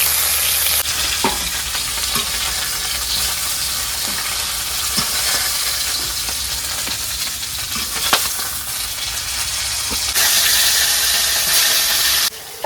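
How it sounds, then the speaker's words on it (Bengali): Tilapia fish fry in hot mustard oil with a loud, constant crackling sizzle and hiss, broken by sharp taps and scrapes of a utensil against the pan; no one speaks. "আগে প্রথমে মাছগুলো আগে ভেজে নেব"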